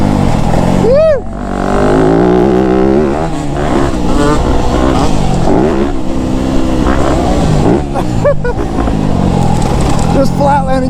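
A trail motorcycle lugging in fourth gear through corners on a jump-filled dirt trail, its engine droning loud and close with rising revs, while a rider speaks over it.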